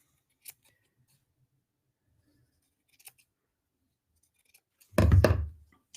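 Scissors cut a styrofoam Easter bunny head: after a mostly quiet stretch with a few faint ticks, one close, sharp crunching snip rings out near the end, with no talking.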